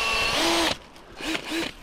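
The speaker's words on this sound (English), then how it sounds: "So I'm literally gonna chuck a potato in, drill a few holes in it." A power drill boring holes into a potato whines loudly for under a second, then cuts off, followed by a couple of short, quieter bursts of the motor spinning up again.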